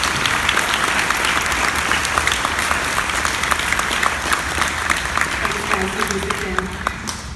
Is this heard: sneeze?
no